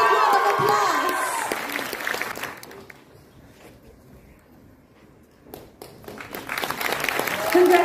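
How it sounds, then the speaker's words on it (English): Applause from the audience at a youth festival prize distribution ceremony in Kohima: it rises loud at first, fades to a quiet murmur, then builds again toward the end, with voices mixed in. "Can we give a big round of applause?"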